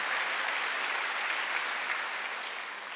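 Sustained applause from a church congregation during a Wednesday worship sermon, a dense even wash of many hands clapping at once, steady and fairly loud before tapering slightly at the end.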